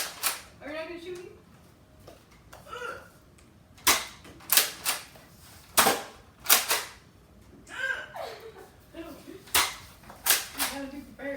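A toy Nerf gun fires foam darts in a rapid series of sharp, snappy pops spread across the clip, with people talking and laughing in between the shots.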